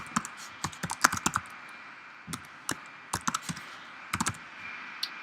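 Typing on a computer keyboard while working with the type tool in Photoshop and Illustrator, with bursts of quick key clicks separated by short pauses and a faint background hum.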